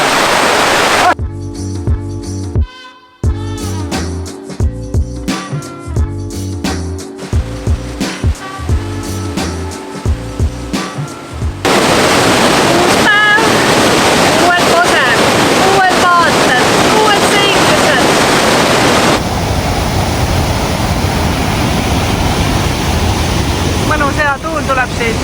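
A waterfall in Canada near Whistler roars as a loud, continuous broadband rush in the later part, while wind buffets the microphone and voices are heard over earlier rhythmic sounds.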